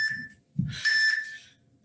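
A workout interval timer beeps during a bodyweight bootcamp class, sounding as a steady electronic tone that repeats after a short gap, with light movement noise between the beeps.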